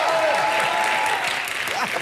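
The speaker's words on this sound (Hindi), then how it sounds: "मेरे लिए जोरदार तालियां" A studio audience on the Indian TV comedy show Comedy Nights With Kapil claps loudly and continuously for the whole stretch, a dense sustained applause with voices mixed in.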